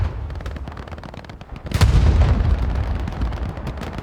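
Gunfire and heavy booms in the Hell Let Loose World War II shooter on a winter map, with rapid shots rolling underneath and a loud blast-like burst swelling midway, then a dense sustained barrage.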